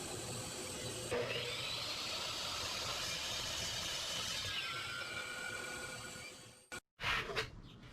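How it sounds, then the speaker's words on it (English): A chop saw cuts material in a workshop, a loud steady whining roar lasting several seconds that winds down, then a short clatter as the cut ends. "I proceed to cut my material to the mark using the chop saw."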